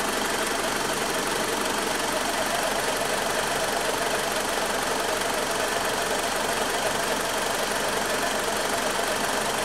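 A Hyundai car engine idling steadily and loudly up close, with a constant rough rattling knock running through the whole stretch.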